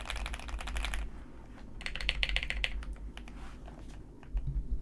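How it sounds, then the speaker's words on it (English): Rapid clacky keystrokes on a modded computer keyboard, bursts of close, crisp typing with short pauses between runs, alone without speech. "And it makes your keyboard sound like way better."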